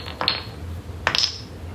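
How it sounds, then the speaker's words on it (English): Two metal hammers set down one after the other in a tool drawer, each giving a bright clanking ring that fades quickly, with a quiet pause between them. "So we're going to take these 3 hammers and lay them down."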